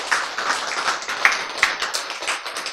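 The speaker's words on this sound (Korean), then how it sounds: "박수!" A lecture audience claps in an uneven patter, a scattering of close, sharp hand claps rising and falling over a few seconds.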